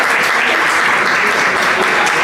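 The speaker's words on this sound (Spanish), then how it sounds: "un aplauso para Irene." An audience in a theatre claps in dense, continuous applause, loud and close, filling the whole short stretch without pause.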